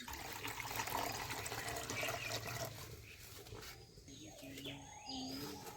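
Water pouring into a cooking pot on a lit clay stove to boil duck eggs, a steady continuous splashing stream close by that thins and gurgles toward the end, with faint birdsong outdoors.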